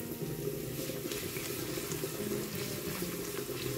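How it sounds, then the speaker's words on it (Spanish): Garlic cloves sizzle in hot oil in a pan as a steady, close, even hiss with no pauses and no voices. "Una vez que tenemos el aceite caliente, ponemos los ajos."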